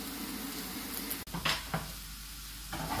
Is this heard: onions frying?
yes